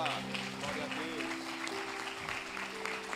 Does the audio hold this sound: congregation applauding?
yes